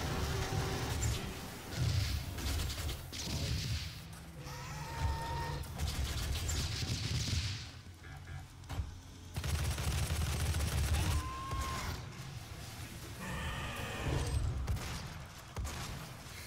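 Rapid bursts of assault rifle fire in the video game DOOM crackle in loud clusters, broken by short pauses, with game effects and explosion-like booms mixed in.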